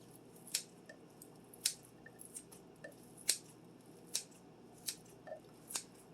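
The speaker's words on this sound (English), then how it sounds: "with my kitchen shears. I'm going to go ahead and cut them." Kitchen shears cutting large pieces of food, a series of about eight crisp, separate snips at irregular intervals, close and quiet with nothing else around them.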